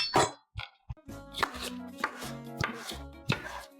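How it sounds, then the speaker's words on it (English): A knife slicing cleaned squid into rings on a cutting board, a series of close, crisp chops in an uneven rhythm with a brief wet knock before them, no speech. "Let's cut the squid."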